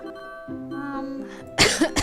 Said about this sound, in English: I wish this darn cough would go away.